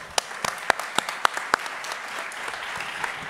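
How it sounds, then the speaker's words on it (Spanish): An audience at a forensics and DevOps conference gives a short burst of applause, sharp individual claps standing out at first before the clapping thins and fades. "yo creo que se merece un aplauso a la organización"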